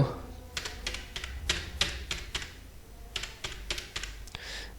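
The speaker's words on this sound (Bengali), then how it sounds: "তো আমি এখন ফোন নাম্বারটা টাইপ করব।" Fingers typing a phone number on a computer keyboard, quick bursts of crisp key clicks in short runs with brief pauses between groups, close and fairly quiet.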